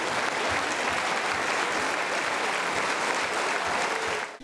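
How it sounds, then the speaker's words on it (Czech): A standing ovation at a district sports gala honouring a visiting Olympic champion: loud, continuous applause from a full hall, steady throughout and alone, easing off at the very end. "Její přítomnost ocenili návštěvníci potleskem ve stoje."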